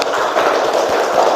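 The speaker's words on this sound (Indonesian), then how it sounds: "tepuk tangan untuk kita semua." Classroom applause from a group of students, a dense, loud burst of clapping that holds steady and close for just over a second.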